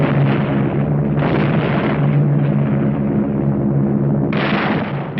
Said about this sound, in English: From the air, RAF bombers opened an attack on the Jap positions in the Nagaduk Pass.